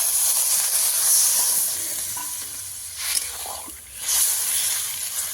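Water hits prawns in a hot cooking pan, giving a steady, close sizzle and hiss with a brief surge of steam partway through and stirring sounds underneath.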